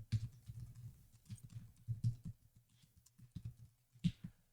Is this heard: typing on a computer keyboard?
yes